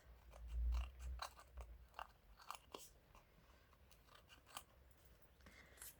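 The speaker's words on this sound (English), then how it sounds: "And then obviously cut the edges off." Scissors trim the edges off a gold leaf tag, making a series of quiet, close snips and crisp crunches in an irregular rhythm, with a soft thump near the start.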